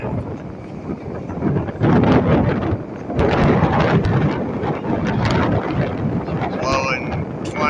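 Gale-force wind on a Gulf of Mexico beach at Sunset Beach, St. Pete, Florida, with head-high surf, a loud continuous roaring buffet against the mic with crashing surf underneath and someone talking at points.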